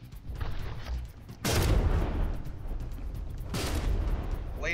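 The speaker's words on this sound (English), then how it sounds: "There's some hits, and that shell bounced off." Naval gunfire and shell impacts in the game From the Depths, heavy booming blasts arriving in two loud surges over a constant rumbling battle backdrop.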